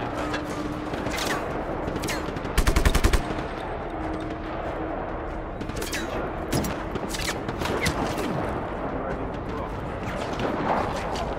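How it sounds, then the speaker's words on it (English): Gunfire in the Just Cause 3 game: rapid automatic bursts and scattered single shots crackle throughout, including a dense burst near the start, with a voice speaking over the action. "I'm wondering who's shooting me right now."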